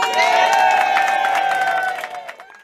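Guests applaud and cheer as a ribbon is cut at an opening ceremony, with clapping mixed with raised voices and whoops from the crowd, loud at first and then tapering off.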